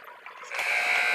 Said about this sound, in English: And there's the buzzer. There's the horn